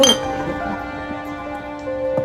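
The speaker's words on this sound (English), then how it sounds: "Laughter and the clinking of bottles filled the air." Glass bottles clinking at a backyard party, one bright clink at the start, then a ringing resonance that slowly decays, with another faint tap near the end.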